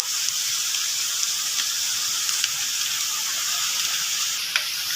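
Two kinds of washed vegetables frying together in hot oil, giving a steady, even sizzle and hiss with faint scattered pops, continuous throughout and with no voices.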